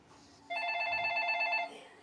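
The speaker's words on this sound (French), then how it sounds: "le téléphone ne cesse de sonner" A telephone rings once with a bright electronic trill in an independent car repair garage, a single steady burst standing out over quiet room noise.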